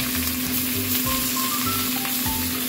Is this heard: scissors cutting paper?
no